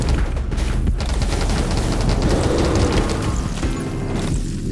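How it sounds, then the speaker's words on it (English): Dual SMGs fire continuously in the video game 20 Minutes Till Dawn, a dense, rapid fusillade of gunshots and impacts layered with game effects. "Noticing some bullet bounce with the dual SMGs"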